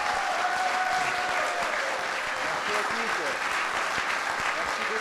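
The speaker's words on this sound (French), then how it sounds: "je vous invite à applaudir Stéphane pour cette trajectoire" A crowd at a Boulogne-Billancourt race control post applauds continuously, a thick, even roar of many clapping hands at steady loudness, with a faint voice beneath.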